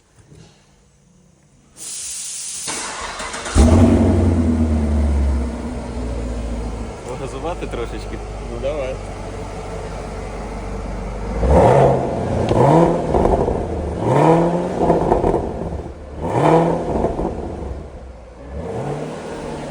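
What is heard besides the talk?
Chevrolet Camaro engine starting and revving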